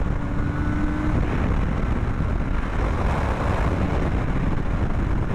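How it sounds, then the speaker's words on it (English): Strong wind roars over the microphone during a motorcycle ride on twisty roads, a loud, constant low rumble with no pauses. "it's so fucking windy."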